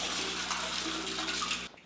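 Well water runs into the holding tank of an off-grid cabin in winter, a steady close rush and splash of water that stops abruptly near the end, with no voices.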